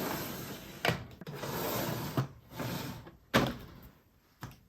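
A makeup storage drawer for face palettes slides open and shut, with several sharp knocks and thuds between soft rubbing scrapes, close and quiet with no voices.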